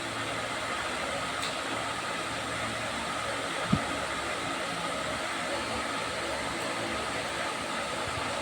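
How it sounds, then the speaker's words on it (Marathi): Wheat flour kapnya deep-fry in hot oil, giving a steady, broadband hissing bubble that stays even throughout, with one soft knock partway through. "आपण फटाफट फ्राय करून घेऊया"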